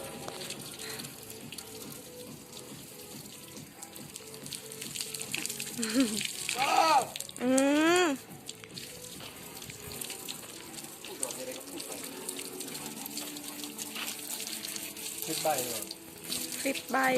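Water sprays steadily while a car is being washed, a continuous hissing rush that runs throughout, with a voice briefly rising over it partway through.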